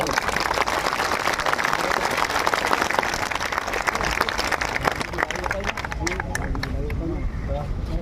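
Crowd at a political gathering breaks into sustained, dense applause, loud and continuous for several seconds, with crowd noise and voices underneath as the clapping thins toward the end.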